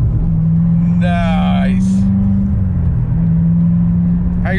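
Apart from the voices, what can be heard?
C7 Corvette Z06 accelerating, shifting first to second gear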